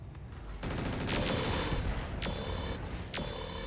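Battle mechs open fire in the RogueTech mod of the BattleTech strategy game, a rumbling volley of weapon blasts with several sharp metallic shots ringing out in sequence, loud and close without speech.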